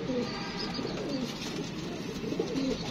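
Pigeons kept in a loft for sale coo repeatedly, with soft, close, rhythmic calls over steady background noise.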